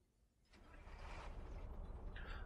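An old truck's engine in Euro Truck Simulator 2 starts up and settles into a steady, rough idle, a broad rumbling drone that swells in after a quiet half-second and holds evenly, with no talking.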